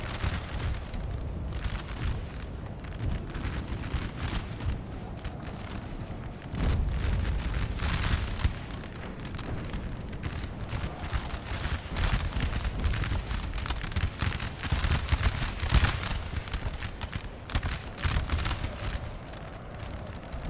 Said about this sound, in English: You can blast the third Lightfoot full of canister shot.